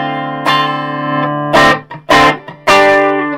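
Electric guitar played through an Orange TH30 amplifier on a driven, slightly distorted tone: a sustained chord, then several sharp strummed chord stabs with brief gaps between them, loud and close.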